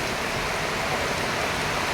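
Steady rain falls in a dense, even hiss that holds unchanged throughout, with no voices or other sounds standing out.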